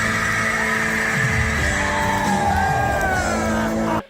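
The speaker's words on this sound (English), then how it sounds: "Cue the guitar riff and scream again." A scream sound effect played on a podcast, a loud sustained yelling cry layered over a guitar riff, continuous for several seconds before cutting off abruptly.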